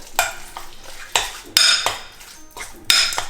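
A utensil clatters and scrapes against a dish while lasagna filling is mixed with cheese, giving a handful of sharp metallic clinks in an uneven rhythm, close and clear with no talking.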